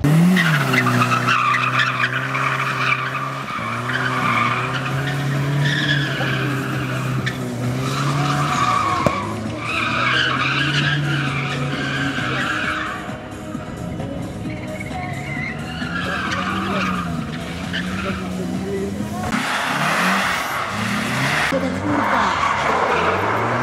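A green Nissan drift car at a Polish drifting competition, its engine roaring and tires screeching in long, loud slides that surge and fade, with commentary running underneath.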